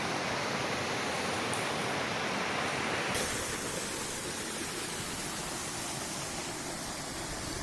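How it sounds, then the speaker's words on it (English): Bridal Veil Falls, a huge waterfall, gives off a steady, dense roar that stays loud and unbroken throughout, its character shifting slightly partway through as if the listening position changes near the edge. "I'm gonna go take a look over the edge of the huge waterfall we were just at"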